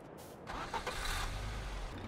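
A car engine in Farming Simulator 22 cranks and catches, then settles into a steady mid-pitched run as the vehicle prepares to reverse, moderately close with no talk.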